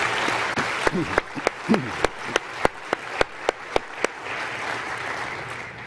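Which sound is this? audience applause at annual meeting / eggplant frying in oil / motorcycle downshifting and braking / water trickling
audience applause at annual meeting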